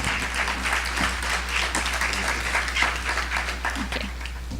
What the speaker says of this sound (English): Let's give another round of applause to our amazing performers.